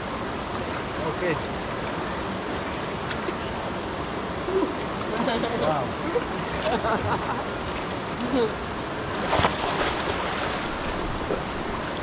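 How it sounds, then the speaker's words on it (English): Water pours and splashes steadily from an outdoor shower in a Jamaican village, a dense continuous rush at close range. A woman's brief exclamations are heard over it. "This is a proper shower in the village, guys."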